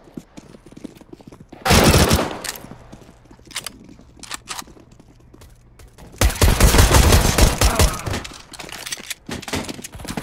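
Gunfire in the game CS:GO on the Mirage map, with two loud bursts of rapid shots, the second longer and denser, separated by quieter in-game sounds and scattered single noises.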